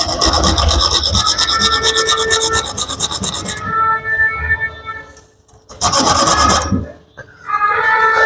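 Hand sawing with a bare saw blade held without its frame, a steady rasping back-and-forth scrape that runs loud and close for about four seconds, breaks off, then returns in shorter bursts.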